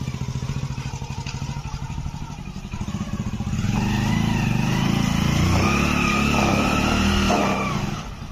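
A motorbike climbs a slope in first gear, its engine droning steadily and then swelling into a louder, strained roar that holds to the end.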